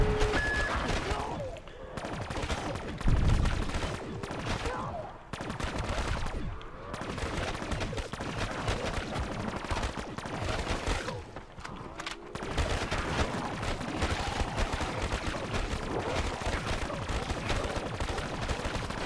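Dense, rapid gunfire from a first-person video game rattles almost nonstop in overlapping bursts with only brief pauses, loud and close throughout.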